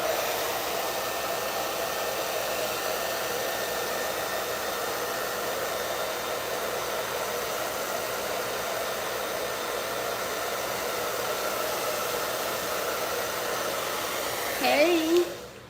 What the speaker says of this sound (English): I like to take my hand and smooth it down when I blow dry it.